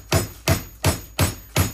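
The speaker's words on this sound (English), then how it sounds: "Here I am, trying to hammer out a meatball" A meatball is struck repeatedly with a hammer, five heavy evenly spaced thuds, loud and close, with no talking.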